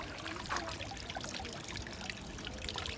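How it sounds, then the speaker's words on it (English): Sparkling water poured into a glass, a steady fizzing, trickling hiss lasting throughout with no voices. "Sparkling water."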